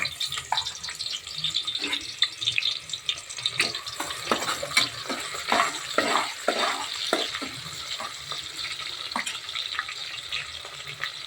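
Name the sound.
onions frying in a pan for vegetable pulao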